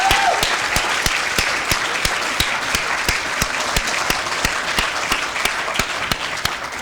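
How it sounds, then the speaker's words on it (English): Sustained crowd applause at a students' union excellence awards ceremony, a thick even wash of clapping punctuated by regular loud, sharp claps from someone close by, continuing without speech for nearly seven seconds. "So a huge round of applause, please."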